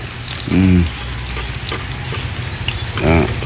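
Food stirs and fries in a pan with a steady close sizzle and scraping, interrupted twice by short voiced sounds.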